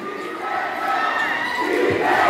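Crowd at a junior-division barangay basketball tournament final in the Philippines shouting and roaring steadily, a dense sustained wall of voices that swells slightly toward the end.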